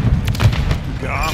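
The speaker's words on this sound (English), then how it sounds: "Throwing through. Grenade." In a video game, a grenade goes off as a short, low, muffled boom that rumbles beneath a talking voice.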